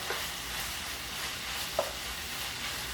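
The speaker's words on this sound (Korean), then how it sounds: "이 야채를 넣은 상태에서는 센 불에서 한 1분 정도만 볶으세요." Chopped vegetables stir-frying over high heat in a pan for a gochujang stir-fry dish, a brief close hiss and sizzle with a couple of soft scraping stirs, no voices.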